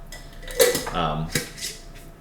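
A pot lid clanks onto a cooking pot of coq au vin coming to a boil, with a sharp metallic clink followed by a brief rattle and a second knock, close and moderately loud.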